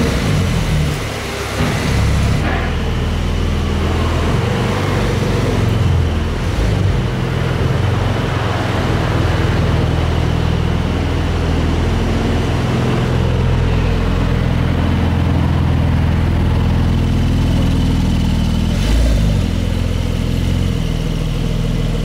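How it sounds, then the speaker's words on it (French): A high-performance sports car capable of 0-100 in 2.4 seconds rumbles as it pulls out of the MotorTech showroom, a loud, steady, deep engine drone held close throughout with slight swells in intensity. "on sort la voiture du showroom, ma partie préférée"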